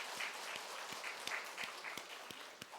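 A church congregation at a Christmas sermon claps in praise of God, a quiet, steady rhythmic clapping at roughly even beats, slightly distant, with no voices.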